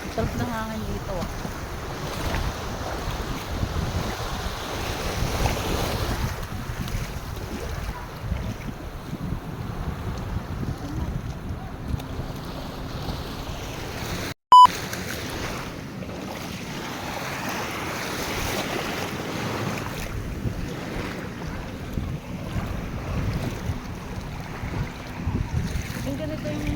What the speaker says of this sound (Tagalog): Sarap na hangin dito ah.